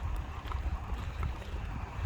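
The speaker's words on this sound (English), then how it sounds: "There's still a bit of wind this morning." Wind gusts across the microphone on a snowy winter morning walk, a soft, low buffeting rumble that swells and fades in uneven puffs, faint and steady with no voices.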